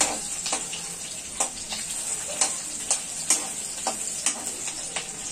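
Sliced garlic cloves fry in hot oil with a steady close sizzle, while a spoon scrapes and stirs at a regular pace, giving sharp clicks about twice a second.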